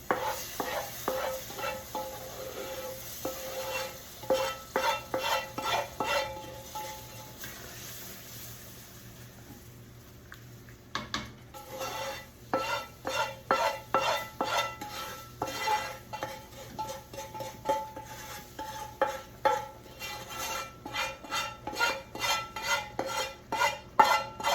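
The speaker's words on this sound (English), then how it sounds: "So now we're going to pour the roux in and give that a good stir." A spoon stirs roux into a boiling pot of vegetables, Rotel and cream of mushroom soup for shrimp étouffée, with repeated scraping and clinking strokes against the metal pot over a bubbling sizzle, close and steady.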